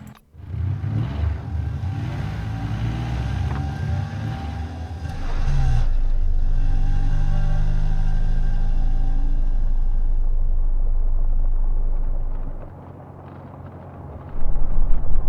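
A car engine rumbles steadily while travelling in the video game Encased, a dense low drone that swells louder midway, holds, then drops off near the end with no talking over it.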